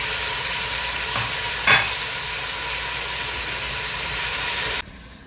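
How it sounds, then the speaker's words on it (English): Food sautéing and browning in a pan for chilli, an even close sizzle with a single sharper scrape of the spatula partway through, cutting off abruptly near the end; no voices. "You see we sauteed that nicely, browned it a little bit."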